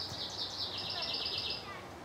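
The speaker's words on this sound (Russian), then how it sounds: "здесь, где мы сейчас находимся, очень красиво поют птички" Birds sing in a forest in a city centre, a continuous bright chirping trill that carries on for about two seconds at moderate level over faint background noise.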